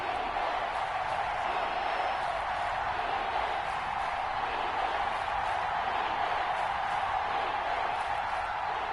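A stadium crowd roars steadily in a PS4 American football game as a big third down approaches, a dense, continuous wash of distant cheering and murmur at an even level.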